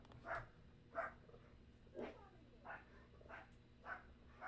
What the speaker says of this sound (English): I hear a small little dog barking.